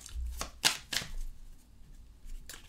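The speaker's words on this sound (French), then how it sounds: "On va tirer 3 cartes." Oracle cards drawn and handled from a deck: a few quick papery swipes and slaps close by, then a pause and one last card snap, no talking.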